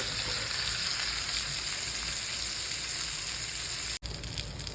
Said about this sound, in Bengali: তো পিঠটাও আপনাদেরকে 7 থেকে 10 মিনিট এইভাবে ভাজতে থাকবো।